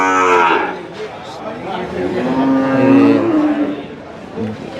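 HF and Jersey crossbred calves at a buffalo market in Erragadda, Hyderabad, moo loudly nearby, several drawn-out bellowing calls overlapping one after another.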